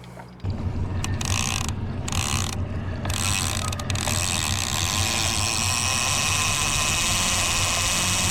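A fishing downrigger handle is cranked, and its ratchet gives a loud, close, rapid run of clicking that carries on steadily after a few brief bursts at the start.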